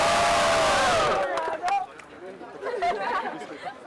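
At a rap battle a crowd roars and cheers loudly for about a second, then settles into scattered shouts and chatter that swell again briefly.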